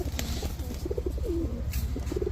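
Golla pigeons, breeding pairs kept for sale, coo softly and repeatedly at close range over a low background hum, with no one talking.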